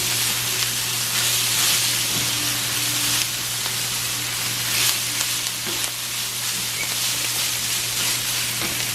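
Ground beef mixed with cilantro sizzles steadily in a pan, a loud continuous frying hiss with a few scrapes of stirring and no talking.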